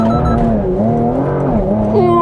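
A 2023/24 Porsche Macan GTS engine roars loud and close in a launch start, pitch rising through the revs as the tyres squeal and squirm, ending with a higher whine.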